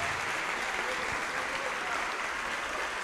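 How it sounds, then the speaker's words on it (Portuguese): Congregation at a church communion service applauding steadily, a dense, even wash of hand claps sustained throughout, fairly loud with no break. "E vamos aplaudir ao Senhor Jesus por cada vida que está chegando."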